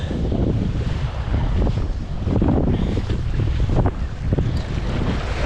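Strong wind buffets the microphone on a rocky shoreline with barnacle-covered rocks during wrasse lure fishing, a continuous loud low rumble with waves washing beneath, no speech.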